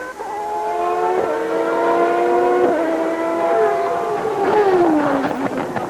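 Ayrton Senna's Formula 1 car during 1993 French Grand Prix practice, a high-pitched engine screaming at sustained revs, shifting gears and dropping pitch into a braking zone before accelerating hard again, loud and close.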